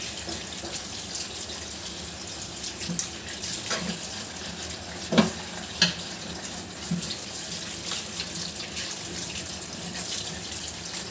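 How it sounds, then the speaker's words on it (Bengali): Tap water runs steadily into a sink while leafy greens (pui shak) are rinsed under it, with a few brief splashes and handling knocks standing out over the constant flow. "শাকগুলো হচ্ছে এখন ধুয়ে নিচ্ছি"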